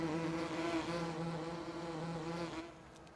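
Bees buzz steadily and close in Landwirtschafts-Simulator 17, a dense droning hum that holds for a few seconds before fading slightly at the end.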